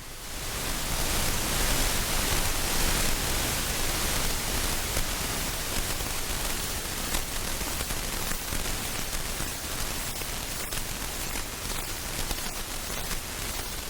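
Steady broadband static hiss run through an Electro-Harmonix Pulsar tremolo pedal, loud and continuous for the whole stretch, with only faint fluctuations in level and no voices.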